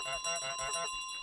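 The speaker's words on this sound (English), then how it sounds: "Time is coming up for Tasselfoot as he drops the bell" A bell dropped by the goose in Untitled Goose Game gives a bright ringing tone with a few pulsing strikes that fade over about a second, heard alone and fairly loud.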